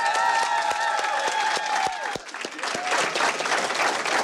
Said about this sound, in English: Let's give our team a great round of applause.